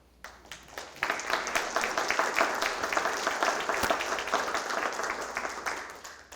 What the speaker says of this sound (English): So they deserve a big round of applause for all the hard work that they've done